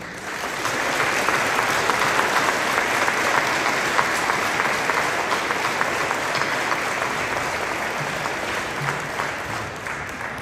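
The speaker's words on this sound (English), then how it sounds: "Please join me in another round of applause." Sustained applause from a large crowd at a school tribute to veterans, dense steady clapping holding at an even level throughout with no voices standing out.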